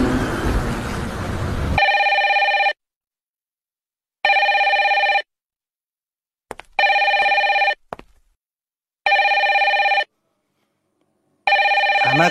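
A telephone rings in regular double-burst cycles, loud and close, with silent gaps between each ring and a short stretch of indistinct background noise before the first ring.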